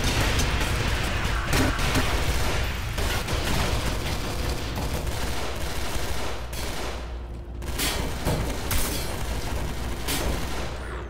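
Sustained gunfire from the zombie shooter game SMOD Outbreak, dense rapid shots and booms running continuously at steady loudness with brief lulls, no talking.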